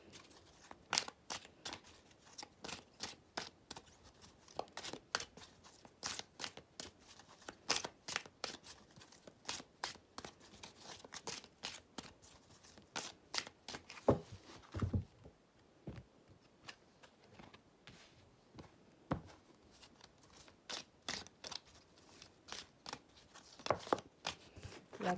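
Tarot cards are shuffled and drawn in a steady run of crisp, close flicks and snaps that continue for a long stretch without talk, with a brief pause about midway.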